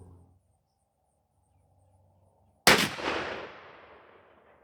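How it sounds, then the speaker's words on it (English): A Stevens 301 20 gauge shotgun with a Patternmaster Black Mamba choke fires a single Herter's Waterfowl 3-inch steel #4 shell outdoors, one sharp loud blast whose echo trails off over quiet insect sounds. "let's take our shot and see what we get"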